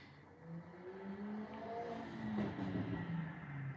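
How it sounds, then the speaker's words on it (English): A loud car passing outside, its engine rumble swelling and peaking midway before easing off, heard faintly from indoors with no talking. "So you can hear that car was really loud"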